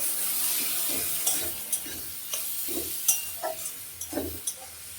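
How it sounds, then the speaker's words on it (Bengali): Spices with Kashmiri chilli powder are stirred in hot oil: a sizzle that fades under repeated spoon scrapes and light clinks against the pan, close and moderately loud. "আর কাশ্মীরের লঙ্কার গুঁড়ো কালারের জন্য একটু দিয়ে দিলাম এখন নেড়ে দেব"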